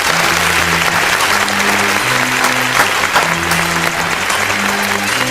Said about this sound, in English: let me get some more claps.